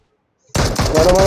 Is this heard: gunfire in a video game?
yes